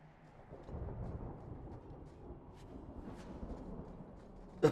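Rumbling thunder from a lightning rune strike in the Dragon Age II video game, a low, rolling boom that swells and lingers with a faint rain-like hiss, ending in a short sharp crack.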